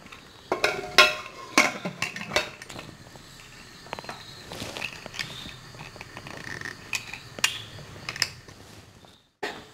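A metal pressure cooker holding boiled rice and water for Karkkidaka kanji gets its lid fitted and closed: a run of sharp metallic clicks, clinks and knocks, close and fairly loud, with no talking.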